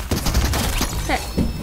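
Rapid video game gunfire bursts in a pickaxe challenge match, dense overlapping shots crackling continuously with a few louder hits, while a player talks over them.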